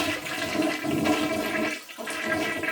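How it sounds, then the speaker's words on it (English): Toilet flushing, a loud close rush of swirling water that surges, briefly eases, then surges again, heard alone with no talk. "The toilet won't flush."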